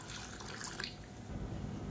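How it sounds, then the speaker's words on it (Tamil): Water poured into a simmering curry in a pan, a steady splashing trickle with faint dripping, close and fairly quiet, no talking. "இப்போ தேவையான அளவுக்கு தண்ணி சேர்த்துக்கலாம்."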